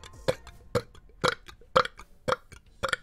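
A streamer's short burps come repeatedly, about six or seven quick belches spaced roughly half a second apart, close and fairly loud with no talk between them.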